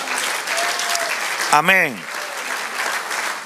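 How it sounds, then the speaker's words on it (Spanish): A church congregation claps during a sermon, a steady wash of applause with one voice calling out briefly over it. "Dale aplauso al Señor."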